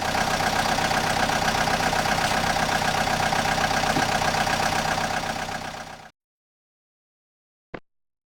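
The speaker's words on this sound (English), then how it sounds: "excavator," Excavator engine running at a steady idle, a continuous mid-pitched diesel rumble with slight knocking, holding even for about six seconds before stopping, then a short click.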